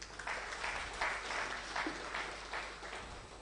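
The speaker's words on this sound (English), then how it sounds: "A round of applause, please." Audience applause at a university event, steady distant clapping with a gentle rising and falling swell, faint and unbroken throughout.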